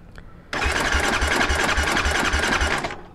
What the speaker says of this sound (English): If you buy a quad that does not run, now it cranks over.